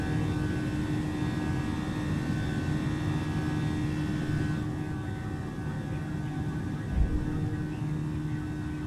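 Airbus A320neo jet engines droning steadily during the climb after takeoff in Microsoft Flight Simulator, a constant loud hum with tonal whine, without pause, ending in a brief low thump.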